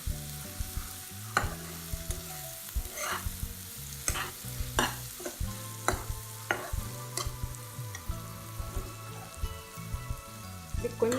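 Chilli powder stirred in a hot pan for an egg podimas side dish produces a low sizzle under repeated rhythmic scraping and clinking of a spoon against the pan, fairly quiet and close.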